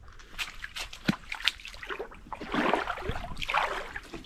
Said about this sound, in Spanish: Pongamos la piragua en marcha.